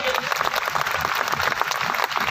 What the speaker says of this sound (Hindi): मैं चाहूंगा कि एक बार जोरदार ताली उनके लिए